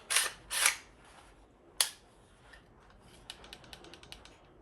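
A pistol dry-fired to test the trigger and safety, a few sharp close mechanical clicks and snaps followed by faint lighter ticks of handling, otherwise quiet.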